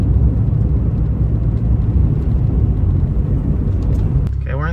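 A Honda Civic EF sedan fitted with a DNA Motoring cat-back exhaust gives off a steady, loud low rumble, near and continuous, that drops into a quieter idle right at the end.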